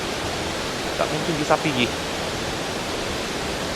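A strong waterfall at Samosir pours with a steady, broadband roar that fills the whole clip, with a brief voice speaking over it near the middle.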